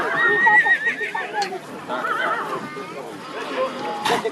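A cold-blooded draft mare at a horse show gives loud, close neighs with a shrill, wavering whinny at the start and a shorter call near the end. Hooves clop faintly between the calls.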